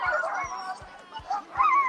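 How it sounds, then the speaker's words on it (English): Sled dogs barking in excited, rapid repeated bursts before a dog sled race, with a crowd murmuring faintly in the background. "The dogs are excited."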